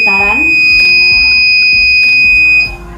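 A steady, piercing electronic buzzer sounds continuously from a homemade earthquake warning device when it detects vibration, loud and close, with a busy tonal background underneath.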